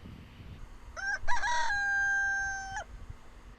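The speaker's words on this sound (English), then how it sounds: "Rooster approves." A rooster crows once outdoors, a clear, drawn-out cock-a-doodle-doo at moderate distance that holds its final note for over a second before cutting off, with faint background noise around it.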